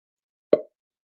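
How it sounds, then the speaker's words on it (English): A single short plop-like notification chime signalling someone joining backstage on a livestream, soft and isolated against silence. "that's the sound of somebody coming backstage"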